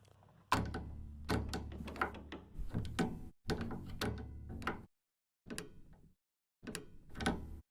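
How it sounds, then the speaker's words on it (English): Mechanical clunks, ratchety clicks and thuds from the string-extension mechanism of an English double bass, sampled for a Kontakt library, heard as a series of separate close, dry hits and short rattles with brief silences between them. "The yellow keys are little sounds that you can get from the mechanism that does the extension."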